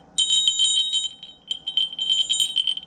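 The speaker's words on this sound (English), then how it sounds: "I was so excited to find these Crotal bells that still ring" Antique crotal bells jingling in quick bright bursts, two clusters of shaken ringing with a short pause between, close and fairly loud.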